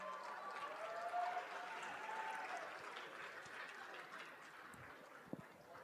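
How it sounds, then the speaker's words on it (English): Faint, steady applause from a conference audience in a hall fills the closing general session of the 15th Annual NatCon, honoring speaker Cedric King, with a distant, even wash of clapping. "Let's have a round of applause once more for Cedric King"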